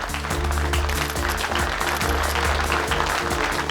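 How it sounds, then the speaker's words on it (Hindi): Loud audience applause greeting judges at a televised event, steady dense clapping under a constant low musical drone throughout. "जोरदार तालियां।"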